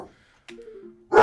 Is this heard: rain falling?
no